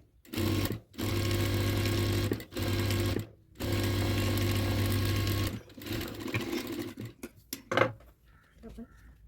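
Bursts of a sewing machine stitching a blouse with aari work, loud steady whirring runs broken by short pauses, then quieter handling clatter near the end.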